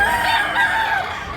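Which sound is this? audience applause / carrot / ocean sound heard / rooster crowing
rooster crowing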